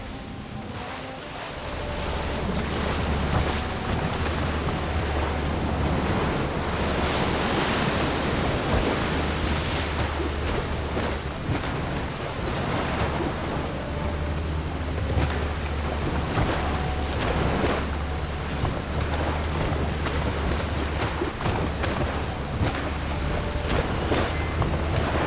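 Churning sea waves in Horizon Forbidden West, a continuous roaring wash of surf with repeated surging swells over a low rumble, loud and sustained with no talking.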